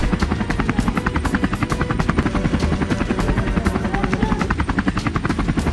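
A cartoon helicopter flies by with a loud, steady, rapid thumping of rotor blades, heard alone without speech.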